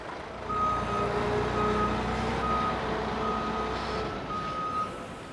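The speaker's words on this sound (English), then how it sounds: "it arrives by the lorry load from local farms" A lorry reverses while delivering chicken litter from local farms to a power station, its reversing beeper sounding in repeated steady tones over a loud, continuous diesel engine rumble.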